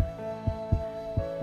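A few low, muffled heartbeat thuds land in a quick double rhythm over a steady held tone in a fantasy drama scene, with no voices present.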